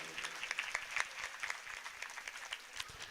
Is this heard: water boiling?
no